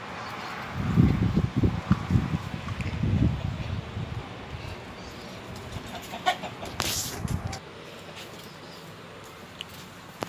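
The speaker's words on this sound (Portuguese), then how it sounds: "A galinha tá, a galinha tá choca, olha." A broody hen clucks on a farm among the household's animals, low throaty clucks in short bursts, close by, with rustling and faint background noise.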